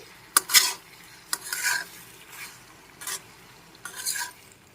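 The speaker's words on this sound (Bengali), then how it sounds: "এবার পাস্তাগুলো মিশিয়ে নিলাম খুব ভালো করে মিশিয়ে নিচ্ছি" Cheese pasta being mixed in a pan, a series of separate scraping, stirring strokes and utensil clatters, close and moderately loud, with short quiet gaps between them.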